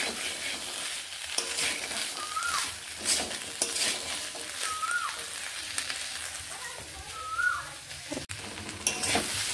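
Chana masala is fried and stirred in a pan, giving a steady low sizzle broken by scraping stirs at an even pace, heard close and alone with no talk.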